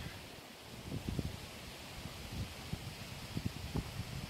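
A forest waterfall rushes somewhere below and off to one side, a faint, steady broadband hiss that stays constant throughout, with occasional low thumps and rustles close to the microphone.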